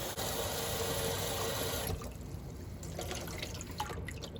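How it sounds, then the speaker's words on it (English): Cold tap water runs steadily over boiled eggs cooling under the faucet, a continuous broadband rush that drops to a softer trickle partway through with a few drips near the end. "Under cold water for a few minutes until you can pick up an egg and hold it a"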